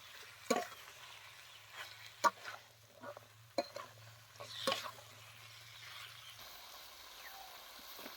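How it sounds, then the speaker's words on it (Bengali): Chicken and cauliflower stir-fry quietly in a pan, a faint low sizzle under scattered spoon scrapes and knocks at uneven intervals, fading toward the end. "এখন চিকেনের সাথে কাবেরী ছোলাগুলো ভালো করে কষিয়ে নেব।"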